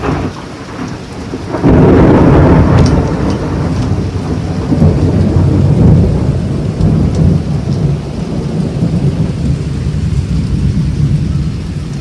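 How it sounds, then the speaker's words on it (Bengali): A heavy afternoon thunderstorm pours loud, dense rain, with a deep roll of thunder bursting in early and rumbling on beneath the constant downpour, close and overwhelming with no voices. "বিশাল জোরে জোরে বাজ পড়ছে, আর সেই রকম জোরে জোরে বৃষ্টিও হচ্ছে, ভালো জোরে বৃষ্টি হচ্ছে"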